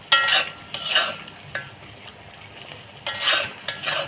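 Masala being stir-fried for shahi korma, heard as several distinct bursts of scraping and sizzling as a spatula works the pan, separated by quieter gaps, close and fairly loud, without talk.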